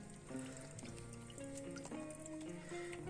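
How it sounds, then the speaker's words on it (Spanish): Water cascading in a community betta aquarium, a faint, steady trickle and bubbling flow with small splashes, heard close and alone. "Mirad cómo va fluyendo el agua poco a poco y rompe aquí."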